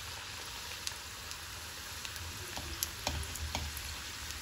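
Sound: champakali frying in oil

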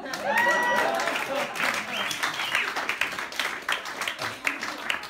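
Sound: audience applause and clapping at comedy club

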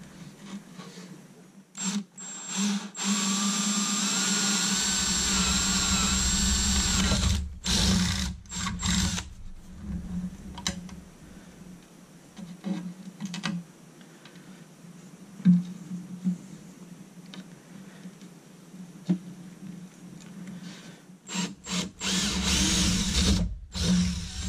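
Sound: power drill drilling holes for joystick install

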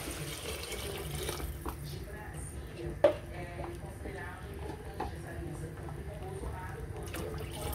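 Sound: water poured into pot for detox soup

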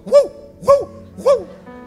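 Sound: man imitating a dog barking

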